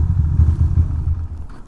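A Ducati Monster motorcycle engine rumbles close by, a low uneven chugging that sputters and fades toward the end, loud with no talking.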